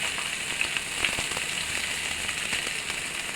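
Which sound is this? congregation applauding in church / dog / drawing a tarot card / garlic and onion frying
garlic and onion frying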